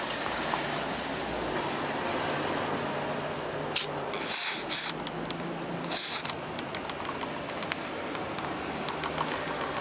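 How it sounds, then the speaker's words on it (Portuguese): Vaseline spray aerosol hissing onto a key of a Yamaha PSR-1000 keyboard under repair, two short bursts of spray over steady background hiss, close by, with no talk during the spraying. "E agora eu vou espirrar nessa chave, que é a segunda. Vaselina spray."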